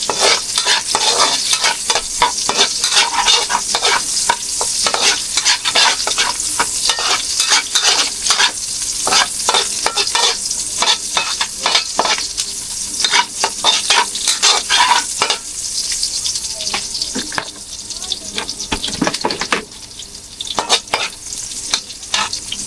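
Ginger and garlic frying in a pan while being stirred, a loud continuous sizzle with frequent scraping and clinking strokes of a utensil against the pan, close up and without talk.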